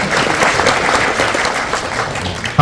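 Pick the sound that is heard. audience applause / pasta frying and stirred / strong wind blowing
audience applause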